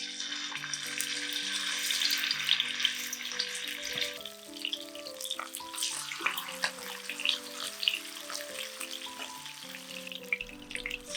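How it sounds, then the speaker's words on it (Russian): Marinated chicken pieces sizzling in hot oil in a frying pan, a steady crackling hiss throughout with sharper pops, heard under melodic background music. "когда масло хорошо разогреется, выкладываем кусочки курицы на горячую сковородку"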